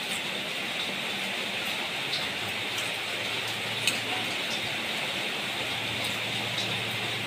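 Steady rain falls outdoors around a Thai home, a constant broadband hiss with occasional faint drop ticks, moderately loud and continuous with no voices.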